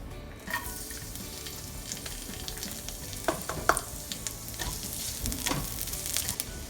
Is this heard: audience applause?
no